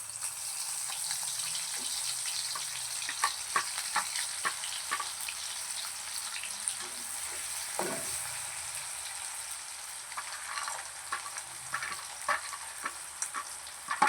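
Onions frying in a pan with mustard seeds and cumin for poha, giving a steady quiet sizzle with scattered pops and stirring scrapes near the microphone, with no one speaking.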